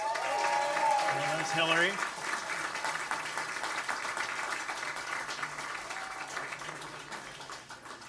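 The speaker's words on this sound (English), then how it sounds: "A big round of applause, please" An audience at an orchestra's cabaret gala applauds the evening's event chairs, a steady wash of clapping that starts fuller and slowly tapers, with a voice speaking briefly over it and faint musical tones in the background.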